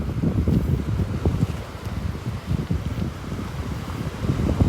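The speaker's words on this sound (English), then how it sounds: "More of a breeze than a wind." A breeze at a beach at Delnor-Wiggins buffets the microphone with steady, fairly loud rumbling gusts, with surf faintly beneath and no voices.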